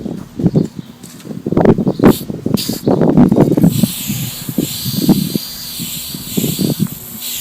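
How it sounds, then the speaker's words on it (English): Wax and tar remover sprayed onto the molding of a 2007 Dodge Charger R/T, heard as several close hissing spray bursts followed by a steadier hiss and softer sprays. "I'm actually just going to saturate behind, just spray this down, this first piece of molding."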